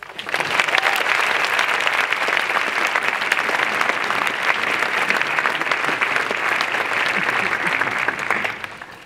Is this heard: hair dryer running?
no